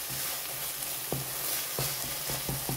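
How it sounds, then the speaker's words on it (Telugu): Steady sizzling of tomatoes frying in a pan for an amaranth leaf curry, with several distinct scraping stirs of a spoon breaking through the constant hiss. "చక్కగా అన్నీ ఫ్రై అయిపోయినాయి."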